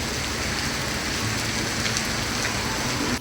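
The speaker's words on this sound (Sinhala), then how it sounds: "බලන්නකො හොඳටම වහිනවා." Heavy rain pours down steadily with a dense, unbroken hiss of drops striking surfaces nearby, continuing at an even loudness with no voices.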